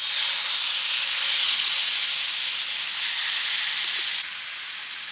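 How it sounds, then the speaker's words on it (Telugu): Marinated chicken fries in oil in a pan, a loud, dense, steady hiss close at hand that drops slightly in level near the end. "మనం ముందుగా కలిపి పెట్టుకున్న చికెన్ని ఫ్రై చేసుకుందాం."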